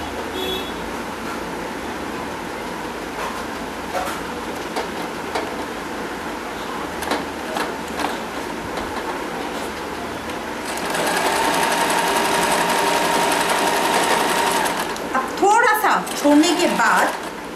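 An electric sewing machine stitches a folded gota trim strip into a belt, whirring in short bursts at first and then running steadily, with someone speaking quietly at times.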